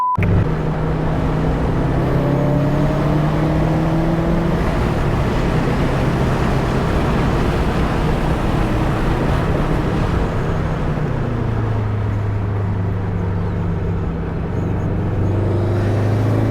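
A car with a freshly rebuilt engine is driven on a slightly wet race track, its engine droning steadily and loudly throughout, with pitch sweeping up through gears and easing down, heard from inside without talk.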